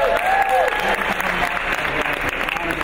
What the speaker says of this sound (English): Iron Chef Jeffrey Zakarian, big round of applause.